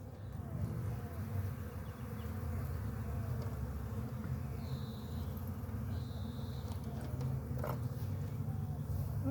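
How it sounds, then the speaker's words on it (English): A dense, steady drone of many honeybees buzzing close by around an open hive during inspection, continuous and loud throughout, with occasional faint higher whines passing. "a lot of the bees that are normally out foraging when I inspect are likely here"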